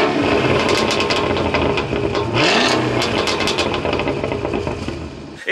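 A Cadillac CT5-V Blackwing's engine roars loud and close, revving and accelerating with a rising sweep partway through before settling into a steady, powerful drone.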